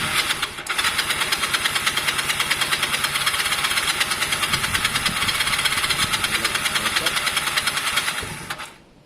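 A Honda CB250 Nighthawk bobber motorcycle, left sitting for weeks and just fitted with swapped carburettors, runs loud and close with a rough, rapid, steady pulsing idle that cuts off near the end.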